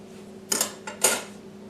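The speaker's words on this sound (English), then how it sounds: "With a kitchen scissor, insert between the casing and the sausage and cut." Kitchen scissors snip through the casing of a salchichón sausage, giving two quick, crisp close-up cuts about half a second apart in an otherwise quiet kitchen.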